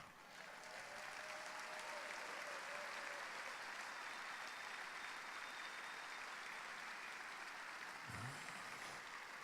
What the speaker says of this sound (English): We deserve to give ourselves a warm round of applause.